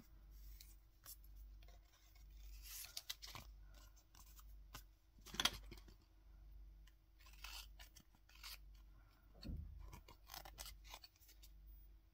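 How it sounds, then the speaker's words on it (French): Scissors trimming off excess material, a series of faint close snips and rubbing scrapes in irregular bursts with quiet pauses between. "Et je vais couper l'excédent parce que ça peut toujours servir."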